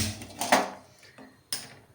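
A metal pan is picked up and set down on a gas stove, a few close, sharp clanks and knocks spaced apart, with quiet between them.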